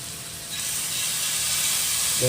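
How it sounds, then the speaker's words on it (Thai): Stir-frying in a pan with French mustard added, a steady hissing sizzle that swells slightly and holds close and loud. "เริ่มหอมแล้วก็เราก็มาลงเฟรนช์มัสตาร์ทนี่นี่นะครับ"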